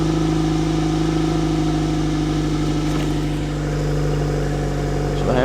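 A Nissan Sentra idles steadily after a cold start, its even mid-range engine drone holding at a constant level, with a slight rise near the end as if starting to rev.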